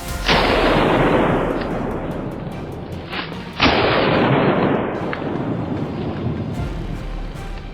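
Two loud rifle shots fired at a wild boar during a hunt, each a sharp blast that rolls off into a long booming echo across open ground.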